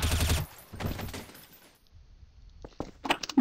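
Counter-Strike: Source gunfire, a loud burst of rapid shots at the start, another burst around one second, then scattered sharper cracks and metallic clatter toward the end.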